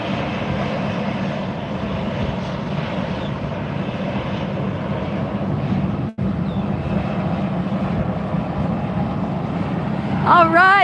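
A Southwest airliner takes off at Fort Lauderdale, a steady engine roar held throughout with a brief dropout midway, and a voice speaks over it near the end.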